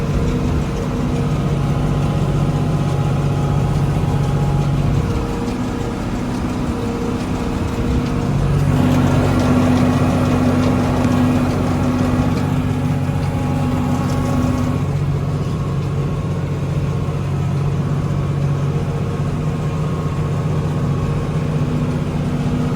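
A farm tractor engine runs steadily at a low, rumbling idle during haymaking for the whole stretch, with a brief change in tone partway through.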